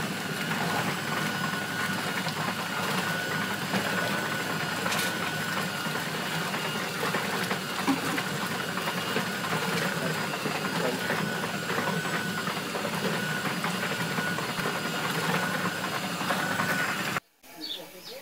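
An Arno twin tub washing machine runs with a steady mechanical hum and rattling churn, constant and close for nearly the whole stretch before stopping abruptly near the end, with faint voices in the background.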